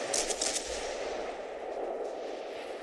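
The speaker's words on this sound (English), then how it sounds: "Let rip with the high explosive." 152mm ship guns firing high explosive shells in World of Warships: a cluster of muffled, booming reports at the start, then a low rumbling wash that lingers and fades.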